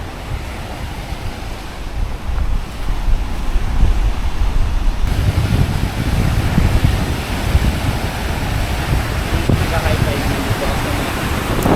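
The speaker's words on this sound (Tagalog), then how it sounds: "Lakas ng hangin. So ang lakas din ng alon." Strong wind whips up waves on Lake Sapanca in Türkiye: a loud, constant roar of wind buffeting the microphone over breaking surf, swelling after a few seconds and staying heavy throughout.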